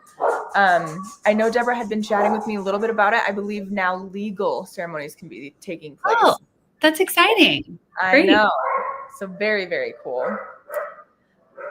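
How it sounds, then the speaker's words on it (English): Dogs bark and yip in short, repeated bursts among the pauses of a conversation between two people, the barks sharp and fairly close. "I do apologize about the dogs."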